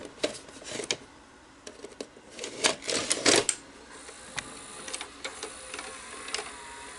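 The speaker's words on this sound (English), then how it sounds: "Yeah, that belt's slipping pretty good actually" A Daewoo VHS VCR with a slipping belt loads a tape, making a series of mechanical clicks, clunks and whirring motor noise from the transport mechanism, heard up close.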